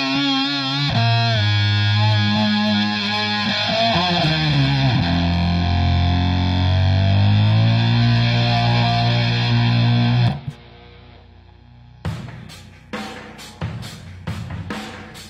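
An electric trombone run through a distortion effect unit, long buzzing, gritty sustained notes with sliding pitch for about ten seconds, then a sparse run of short clipped stabs; loud and close with no talking.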